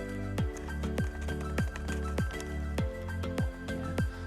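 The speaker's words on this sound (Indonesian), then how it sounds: "Kita aduk fungisidanya." A spoon stirs a small amount of fungicide solution for orchid seedlings, giving repeated soft wet clinks and swishes in a steady rhythm, close up and moderately loud, with no voices.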